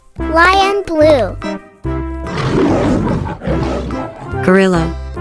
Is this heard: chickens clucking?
no